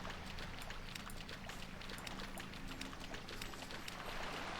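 A World of Warcraft: Wrath of the Lich King Classic character runs across water, producing a steady, continuous wash of splashing footfalls at a close, even level throughout.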